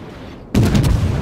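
Heavy naval guns of the USS Pensacola, a cruiser in a naval combat game, boom out in one sudden loud salvo after a moment of low ambient rumble, with a rolling tail.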